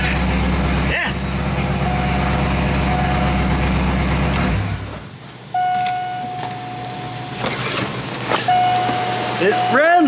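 The engine of a car called the Skidvette runs with a loud, rough drone, then cuts out abruptly and gives way to quieter mechanical whirs and tones. Voices speak briefly near the end.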